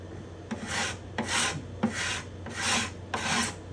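A hand scraper works over the spruce top bindings and purflings of a guitar in five even, rasping strokes, each a close, dry scrape with short pauses between, and no talking.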